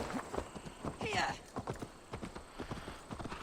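Rhythmic clip-clop of horse hooves at a steady walking pace in Assassin's Creed Valhalla, with a brief whinny, under background game music and occasional talk.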